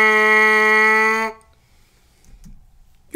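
A strong, steady brass-like buzz from a trumpet mouthpiece holds for about a second, then stops abruptly, leaving near silence.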